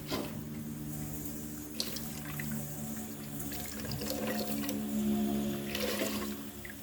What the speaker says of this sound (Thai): ต้องล้างให้มันเกลี้ยงหน่อยนะเพราะเครื่องแกงติดเยอะ